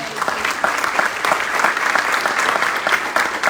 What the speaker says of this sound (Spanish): te brindamos un nuevo y un caluroso aplauso todas y todos